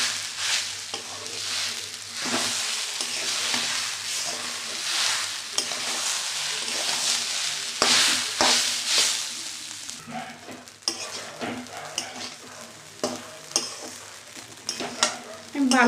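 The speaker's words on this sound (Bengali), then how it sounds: "ভালো করে এটা ভেজে নিচ্ছি" Broken wheat (dalia) and lentils fry together in a pan with a steady, close sizzle, while a spoon scrapes and stirs them in frequent rhythmic strokes; the frying quiets a little toward the end.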